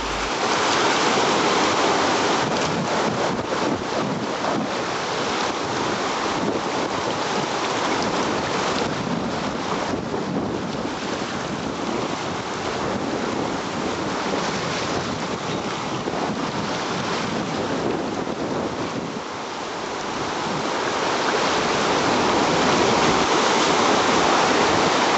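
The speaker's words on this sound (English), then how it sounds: "There was plenty of water in the river, and the current of water was extremely high." A strong, high river current at the Sangam in Karna Prayag rushes continuously, a dense roaring wash of water mixed with buffeting wind noise on the microphone, steady and loud throughout with no talk.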